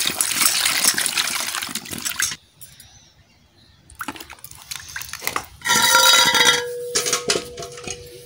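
Water gushes and splashes loudly while being poured during cashew preparation, stops for a quiet spell, then returns in a second strong pour with faint clinking of dishes.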